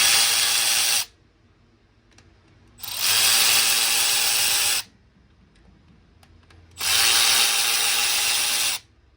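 Three loud bursts of a power tool whirring as it spins out 10 mm bolts on a Bobcat 7753 skid steer's leaking gasket cover, each about two seconds long with quiet gaps between them.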